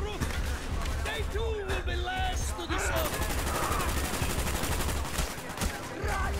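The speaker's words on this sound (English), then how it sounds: "I'm getting shot at" Rapid gunfire in the Call of Duty Black Ops campaign, dense bursts of automatic fire and scattered single shots crackling throughout, with people talking over the shooting.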